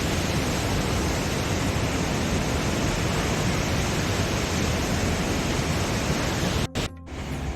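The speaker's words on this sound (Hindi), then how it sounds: "ये है मनेरी का वाटरफॉल, जो कि बिजली उत्पाद के बाद यहाँ पर छोड़ा जाता है" Maneri waterfall in Uttarakhand, where water is released after hydroelectric generation, roars as a loud, steady broadband rush close by, briefly cut and dipping near the end.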